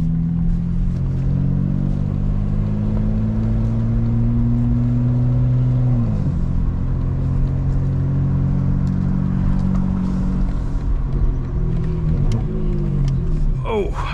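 A 2025 BMW M4 Competition xDrive drives along steadily, its engine droning close and continuous with two clear drops in pitch as gears shift, and a faint rattle near the end.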